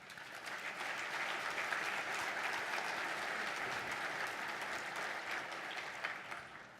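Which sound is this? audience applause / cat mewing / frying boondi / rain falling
audience applause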